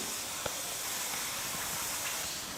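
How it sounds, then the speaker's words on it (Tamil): Snack dough frying in hot oil in a kadai gives a steady, even sizzling hiss, close up and continuous, with faint crackles and no voices. "ரெடி பண்ணி வச்சுருக்கிறத எடுத்து எண்ணெயில் போட்டு பொரிச்சு எடுத்துக்கலாம்."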